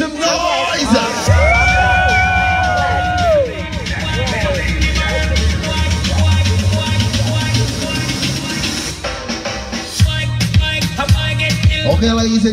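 Crowd cheering and shouting at a fire show in Curaçao, loud and sustained. A host's amplified voice and music rise over it early on and a rumbling undertone runs throughout.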